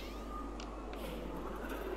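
A cat meows in a video game, a fairly steady tonal cry heard alone against a constant low background hum.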